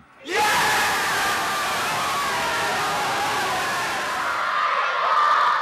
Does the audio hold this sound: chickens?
no